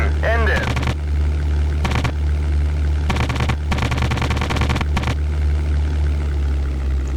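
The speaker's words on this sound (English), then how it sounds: "So many shots, but just into the wings." Bursts of aircraft machine-gun fire in the 1998 flight game European Air War, several rapid clattering volleys over a constant engine drone.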